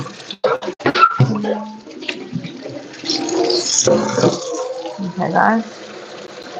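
Tap water runs and splashes into a container in a kitchen while preparing pumpkin for a Jamaican steamed fish dish, a steady rushing flow close by, with someone speaking briefly over it.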